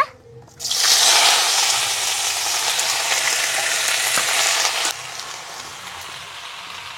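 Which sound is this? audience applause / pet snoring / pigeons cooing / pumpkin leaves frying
pumpkin leaves frying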